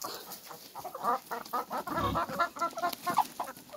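Soft, repeated clucking from several free-ranging laying hens nearby, fairly quiet and irregular, with low background noise.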